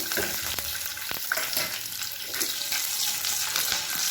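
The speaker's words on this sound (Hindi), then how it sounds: "और इसे हल्का सा फ्राई होने देंगे।" Green chillies fry lightly in oil with spluttering mustard seeds, a steady close sizzle with occasional pops and faint stirring clicks, no voices.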